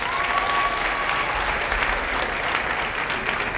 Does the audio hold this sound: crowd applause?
yes